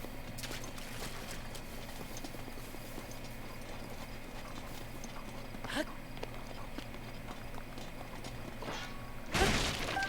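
Horses trot through the Breath of the Wild video game with a steady clip-clop of hooves over continuous game ambience and music, and a brief louder burst near the end.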